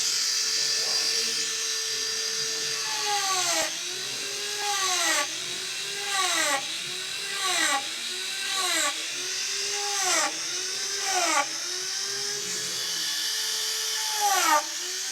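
A Sabre carbide multi-tipped texturing tool cutting into wood spinning on a lathe, a whining motor hum broken by repeated chattering bursts as the tool is pressed in, with someone talking over it.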